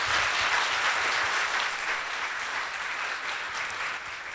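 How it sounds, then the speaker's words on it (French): A large group of trainees at a business model training session in Ouagadougou applaud loudly, a full, sustained wall of clapping that eases slightly toward the end. "ils vont se signaler en s'applaudissant très très fort"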